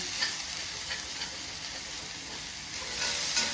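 Carrots and beans sautéing in a pan for a vegetable cutlet, giving a steady, close sizzle and frying hiss for the whole stretch, slightly louder near the end, with no voices.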